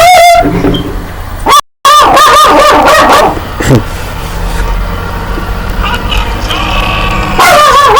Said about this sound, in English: dog's barking at the mailman, if you can hear.